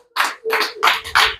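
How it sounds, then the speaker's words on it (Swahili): A church congregation claps in four loud, sharp bursts of applause during a Sunday worship service, each burst lasting a fraction of a second with brief gaps between them. "Ongeza makofi tena kwa Yesu."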